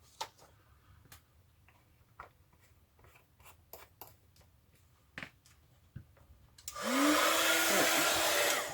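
Embossing heat tool for card making, quiet ticks and taps at first, then the tool switches on with a loud steady rush of hot air for the final seconds.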